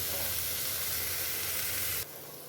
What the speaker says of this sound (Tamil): குடமிளகாய் சீக்கிரம் வதங்கிடும். இந்த பச்சை வாடை போகிற வரைக்கும் வதக்கிக்கலாம்.